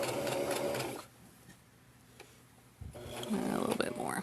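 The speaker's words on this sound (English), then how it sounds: "So I'm going to sew up to that point and then do some back" A sewing machine hums in fast bursts while back stitching a mini messenger bag, running, pausing briefly, then starting up again nearby, with a voice talking between the runs.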